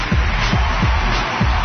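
Loud, dense cheering from a crowd on a radio talk show, a constant rushing roar punctuated by regular low booming beats about every half second, with no talk.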